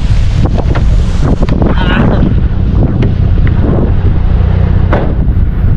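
Strong wind buffets the microphone in a constant loud roar, with gusty low rumble throughout and occasional sharp knocks.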